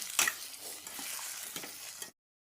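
Potatoes and brinjal fry in a pan at medium heat while a utensil stirs them, a soft steady sizzle with light scraping scrapes and taps, quiet and close, ending abruptly.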